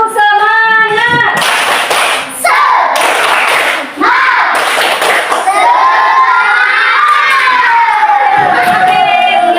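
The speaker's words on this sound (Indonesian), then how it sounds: "Tepuk semangat." Fifth-grade schoolchildren in a classroom chant and shout together in a loud, rhythmic spirit clap, with claps and thumps in the crowd noise and an adult voice leading at the start.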